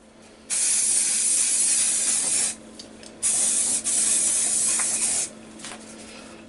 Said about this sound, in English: My problem with paint spraying